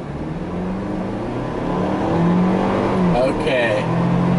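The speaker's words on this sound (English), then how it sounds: "It does take a little bit of time for that turbo to spool up from a stop." A 2021 Ford Bronco Badlands turbocharged SUV engine hums and then rises in pitch as it accelerates from a stop, turbo spooling up, with someone talking over the steady interior drone.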